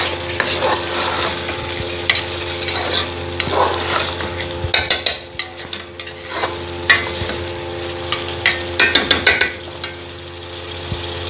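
Green masala of chopped mint, green chili and coriander fries in a pan with a steady sizzle, punctuated by repeated sharp clacks and scrapes of a spoon stirring against the metal.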